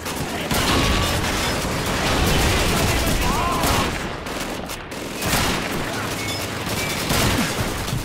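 Sustained gunfire fills a battle in Call of Duty 2 as shots are fired at a barrel. The loud, dense bursts overlap heavily and run with barely a pause, over general battlefield din.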